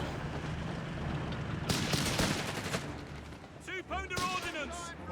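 Rapid gunfire crackles and booms through a Company of Heroes 3 multiplayer battle between Wehrmacht and British forces, with a Humber armoured car and 2-pounder gun engaged; dense, continuous bursts with a commentator talking over them.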